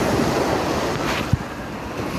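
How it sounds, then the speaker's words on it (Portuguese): Waves rolling through a wave pool at Wet'n Wild water park, a steady broad wash of surging water with wind buffeting the microphone and one short thump, loud and close. "Olha a onda."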